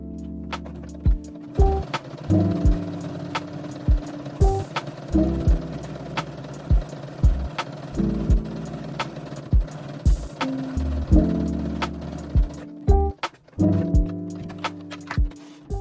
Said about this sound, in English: Sewing a circle can be hard at first.